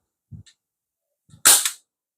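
A single sharp report from an MK1 airsoft sniper rifle firing a shot, loud and close, preceded by two faint soft clicks, with no talking.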